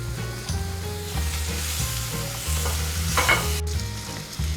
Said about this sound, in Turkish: Unumuzu ekleyip 1-2 dakika kavuruyoruz.